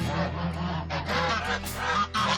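Baby geese honk repeatedly in loud, overlapping bursts as they flee into a corner from two excited animals nearby, the calls coming in quick uneven clusters.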